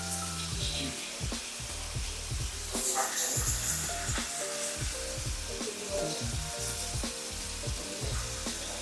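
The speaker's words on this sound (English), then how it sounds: "We're getting a nice sizzle in the pan." Axis deer and sandhill crane meat sizzles in a hot pan over high heat, a soft, steady crackle of frying under intermittent low clanks and kitchen bumps.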